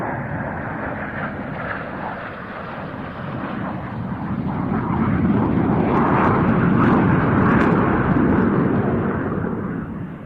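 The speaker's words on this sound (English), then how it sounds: "But here come the two German EF2000s." Two German Air Force EF2000 Eurofighter jets flying past at an airshow arrivals day, a loud, broad roaring rumble that swells and peaks mid-pass before easing, with no voices.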